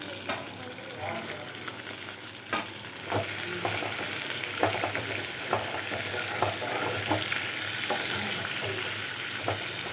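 Chopped tomatoes sauté in a pan for urad dal tomato chutney, a steady sizzle broken by repeated sharp scrapes of stirring, close and fairly loud with no talk.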